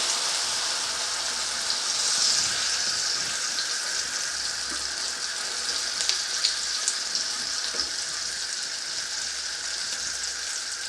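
Vegetables and beaten eggs for a vegetable omelette fry in a pan, giving a steady, close hiss of sizzling with small crackles and pops throughout and no voices.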